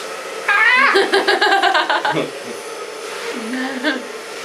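Hair dryer blowing steadily on a long bob haircut in a salon, a loud continuous whoosh throughout, with laughter and chatter over it at the start.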